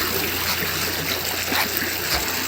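A mountain stream flowing down from the hills, a loud, continuous close rush of water with a steady broadband hiss and no voices.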